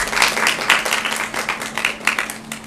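An audience applauds at a women and girls gathering in the Governor's Mansion, a steady moderate wash of many hands clapping that holds for a few seconds.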